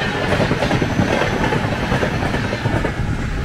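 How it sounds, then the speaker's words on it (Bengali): A sleeper-class train runs from Chennai toward Kerala, its steady rumble filling the car with a dense, even roar and faint clickety-clack of wheels over rail joints throughout. "ট্রেন খুব ভালো চলছে।"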